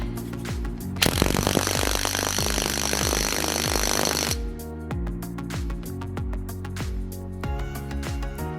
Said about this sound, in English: with a 17mm socket, we are going to tighten this as much as we can.